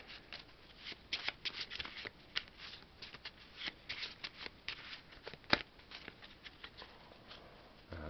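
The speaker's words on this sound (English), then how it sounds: "I take all my discards and I shuffle them." A pile of board game cards is shuffled by hand, with quiet, rapid, repeated papery riffles and soft patters over about eight seconds and one sharper snap midway, with no speech.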